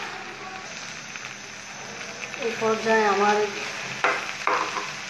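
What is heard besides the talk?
beef tripe frying in a pan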